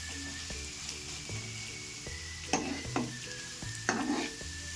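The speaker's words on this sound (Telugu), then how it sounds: "అప్పుడప్పుడు మధ్యలో దీన్ని మిక్స్ చేస్తూ ఫ్రై చేసుకోవాలి." Raw mango paratha filling frying in a pan, a constant close sizzle with spoon scrapes and clinks as it is stirred every second or so, no talking.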